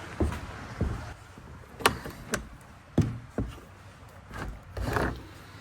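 Stuck doors in a flood-damaged house are forced open, making a series of irregular wooden thumps, knocks and creaks at close range with pauses between the hits.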